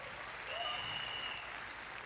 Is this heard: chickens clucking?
no